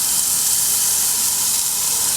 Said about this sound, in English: Oh, listen to the sizzle.